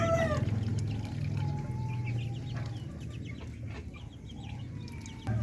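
Darag native chickens cluck and murmur in a farm pen, with several birds calling close by over a steady background, including a few sharper squawks and short calls.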